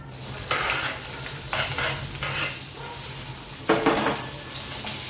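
Mustard seeds, cumin and onion fry in a pan for a tondli vegetable dish. A soft sizzle is broken by several louder bursts of stirring, with no voice.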